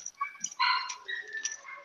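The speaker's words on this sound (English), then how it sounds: "the puppy is very upset." An upset puppy lets out a series of high, thin whimpers and short whines. They are faint and close, come in uneven bursts, and have quiet gaps between them.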